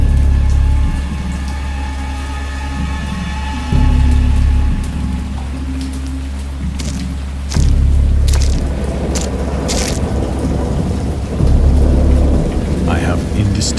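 A thunderstorm with steady heavy rain pattering close by, broken by three deep rolling thunder rumbles spaced a few seconds apart, with no talking.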